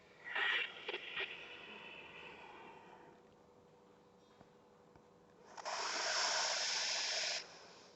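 Deep breathing during a yoga cat-cow exercise: a breathy exhale at the start, a quiet pause, then a long steady airy inhale, close and soft with no talking.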